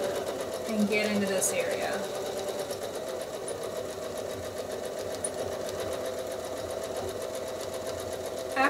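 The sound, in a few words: sewing machine free motion quilting a feather design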